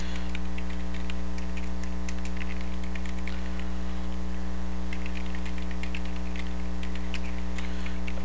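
Steady, fast typing on a computer keyboard while filling in a web form: dense clicking keystrokes, close and clear over a constant low electrical hum, with no voices.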